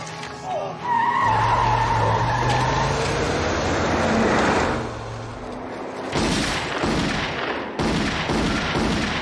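Tires screech as a car skids in a film chase scene, the driver trying to run people over, a loud sustained squeal over engine roar followed by sharp bangs and crashes near the end.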